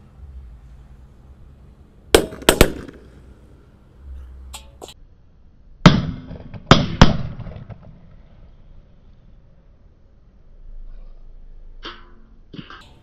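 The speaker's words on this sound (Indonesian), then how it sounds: "eksperimen menyalakan mercon di dalam panci" Firecrackers go off inside a metal cooking pot, sending out sharp, loud cracks and pops in small clusters, with quieter gaps and faint low background noise between bursts.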